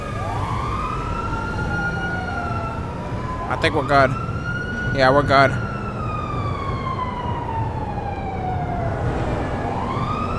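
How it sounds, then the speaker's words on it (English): Police sirens wail in GTA 5, a long rising and falling tone with a few quick yelping bursts, heard under people talking. "I hear sirens."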